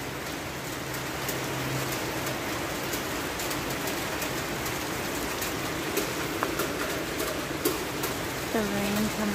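Heavy rain blowing in on an upper floor of a building, a continuous dense hiss of drops against surfaces, steady and fairly loud, with a few sharper taps and a brief voice near the end.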